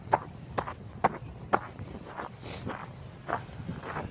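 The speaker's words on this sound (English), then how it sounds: "Walking in the gravel, you guys probably can hear it." Crunching footsteps on gravel, a steady walking rhythm of soft scraping steps, fairly quiet, close by, with faint background hiss.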